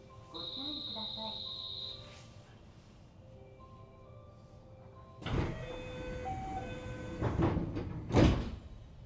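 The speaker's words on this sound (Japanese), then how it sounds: "ドア閉まります。" Quiet ambience with a high electronic tone, then a pneumatic hiss and thuds as the sliding doors of a JR West 227 series train shut on the Sanyo Main Line, followed by a couple of knocks.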